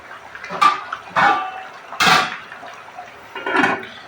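A lid goes onto a pan of pangas fish cooking on the stove, with several close metallic clanks and scrapes in quick succession and no talking.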